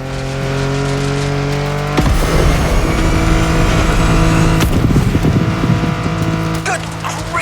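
A car engine in The Crew Motorfest screams at high revs while speeding downhill, holding steady tones that jump with sudden gear shifts, loud and close throughout.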